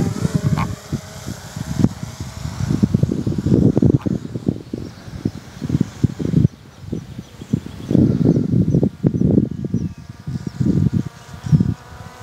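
A steady high-pitched buzzing of a DJI Mavic Air 2 drone's small propellers in flight, in tripod mode, fluctuating in loudness as it moves around nearby, with faint wind rustle.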